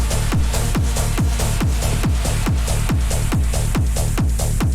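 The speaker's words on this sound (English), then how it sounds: "a more sharp techno hi-hat altogether." A sharp techno hi-hat for an electronic dance track's drop, built in FL Studio, ticks in a fast, even loop over steady punchy kick thumps, loud and upfront with no voices.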